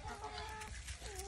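A chicken gives a short series of soft clucks, fairly quiet and close, over a low rumbling background.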